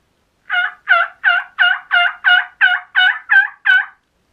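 A turkey call imitating a hen produces a series of ten evenly spaced, raspy yelps, loud and close, in a steady rhythm with no other sounds.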